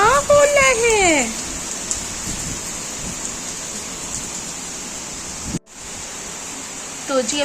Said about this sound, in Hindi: कितनी तेज़ यहाँ बारिश हो रही है, आप देख लीजिए।